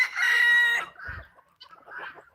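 A rooster crows loudly once, followed by a few short clucks from chickens roaming a farm yard in the rain.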